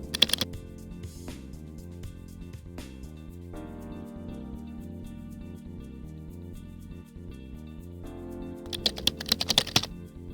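Keystrokes tapping out commands on a computer keyboard at a Linux terminal, faint and fairly steady, with a denser flurry of clicks near the end; no one speaks.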